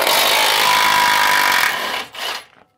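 A Milwaukee power tool with an extension removes frame bolts on a Ford Bronco, giving a loud, harsh grinding whir that holds steady and then winds down in a couple of short stuttering bursts before stopping.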